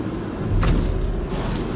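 Car engine driving in the video game PUBG Mobile, a steady close drone with a short whooshing swell midway, loud and continuous, no talk over it.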